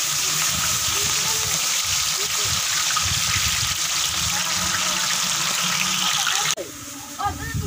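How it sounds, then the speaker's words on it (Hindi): Onions fry loudly in hot oil in a pan while making egg pulao, a steady dense sizzle throughout that briefly dips near the end as something is stirred. "अब मैं इसमें प्याज डालूंगा।"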